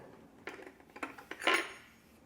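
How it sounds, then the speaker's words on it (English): A spoon stirs a drink mixed with raspberry salt, giving a few quick light clinks and scrapes against the glass that build to a brighter rattle near the end, heard close with no talking. "Do you want a spoon to stir it?"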